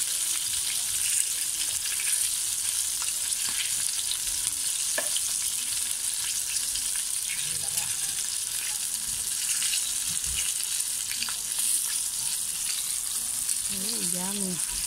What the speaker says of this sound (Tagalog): Tayo na't magluto